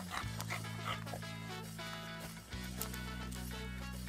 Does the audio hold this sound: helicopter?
no